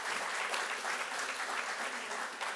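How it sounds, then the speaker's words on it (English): Steady applause from a crowd at a university keynote address, dense clapping that holds at an even level throughout without any voices standing out. "Give them one more round of applause for that."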